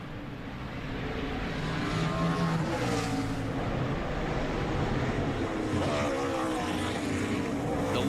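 A NASCAR Xfinity race car at the Mid-Ohio road course works through the gears, its engine rising and falling in pitch between throttle and braking, heard as a somewhat distant, continuous roar.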